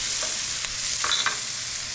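Onions sizzle steadily in a hot pan, a constant frying hiss with a few light scrapes as they are stirred.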